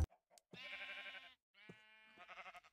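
Blocky sheep in Minecraft bleat in a few clear, drawn-out calls with short gaps between them, close and fairly quiet, with no talk over them.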